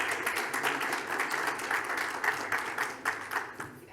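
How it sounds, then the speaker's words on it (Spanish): Audience applauses a lawyer introduced as an award-winning speaker at a corporate compliance conference, a steady wash of clapping lasting the full few seconds, moderately distant, with a few louder claps near the end. "Un aplauso, por favor, para Leonor."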